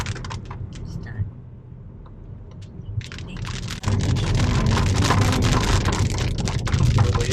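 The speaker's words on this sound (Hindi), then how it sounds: "तो भैया बारिश स्टार्ट हो गया है।" Steady rain patters down, growing heavier and denser partway through into a loud, continuous downpour close by.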